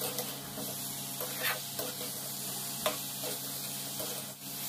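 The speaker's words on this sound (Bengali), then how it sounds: "এখন আমি ফ্রাই করা ফুলকপি আর আলুটা দিয়ে দিলাম।" Fried cauliflower and potato go into a simmering oily gravy for a Bengali fish and cauliflower curry, giving a steady close sizzle with occasional scraping stirs and clinks from the pan.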